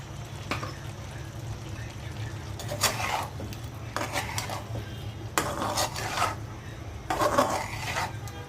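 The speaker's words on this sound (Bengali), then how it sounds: "মাংসের মধ্যে দিয়ে দিচ্ছি আলু" Potatoes go into a pot of beef curry with clattering pot and utensil knocks and stirring scrapes in several bursts over a steady low background hum, close by, with no talk.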